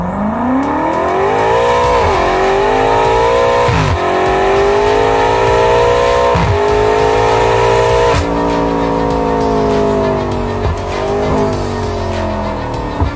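A BMW F90 M5 V8 revving repeatedly through an Akrapovic titanium sports exhaust, deep loud roar rising and falling in several pulls, with crackles between throttle blips.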